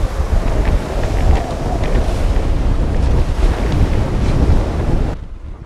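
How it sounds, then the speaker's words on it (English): Strong North Sea winter storm wind at 40 knots roaring over a sailboat at sea, with heavy buffeting across the microphone and crashing surf, loud and continuous throughout before cutting off abruptly at the end. "the winds started reaching 40 knots"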